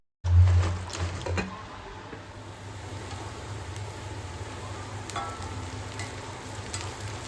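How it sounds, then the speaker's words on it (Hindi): Onion and carrot fry in a pan with a steady, soft sizzle that follows a brief louder clatter at the start, continuing evenly throughout. "यहाँ पर अनियन एंड गाजर दोनों को थोड़ा-सा हम लोग फ्राई कर लेंगे"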